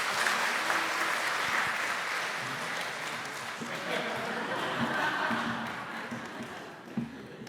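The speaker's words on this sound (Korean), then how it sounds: "큰 박수 한번 부탁드립니다." A church congregation at a Korean Sunday worship service breaks into sustained applause after a prayer, with a few soft chuckles scattered through the clapping as it gradually eases off.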